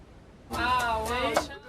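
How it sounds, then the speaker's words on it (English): Food being chopped in a University of Delaware kitchen classroom where a class cooks big batches of worm chili, a short burst of knife work heard under loud, voice-like tonal sound. "all sorts of slicing and dicing and chopping and brothing going on in this University of Delaware kitchen classroom"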